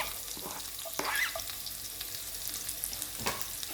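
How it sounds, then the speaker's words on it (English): Roughly diced onion hits a hot pan and sizzles in a steady frying hiss, broken by a few sharp crackles and stirring scrapes, close and fairly loud with no talking. "Right, so now I'm going to add my onion."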